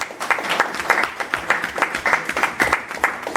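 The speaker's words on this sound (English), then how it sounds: "I want you to give Leah another round of applause" An audience at a talk on Black identity claps in a brisk, dense round, many hands together with slight pulsing in loudness, close and continuous for a few seconds.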